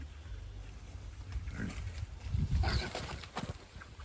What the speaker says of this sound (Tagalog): Mga inahing baboy.